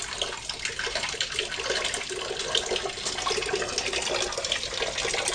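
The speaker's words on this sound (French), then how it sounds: "Voilà l'eau qui coule." Water gushes steadily from the outlet of a newly installed water pump, a continuous broad splashing rush, close and even in loudness throughout, with no voices.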